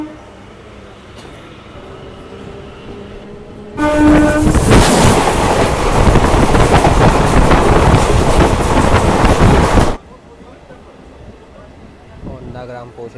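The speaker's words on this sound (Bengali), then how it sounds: "তাই ট্রেনও ছেড়ে দিল" A local passenger train pulls out of a halt station and gets under way, its broadband rumble and clatter suddenly loud and close for about six seconds before cutting back to quieter surroundings with faint background voices.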